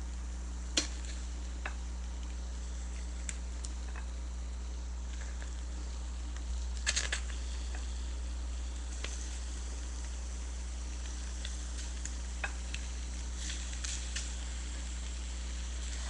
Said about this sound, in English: Can hear it sizzling.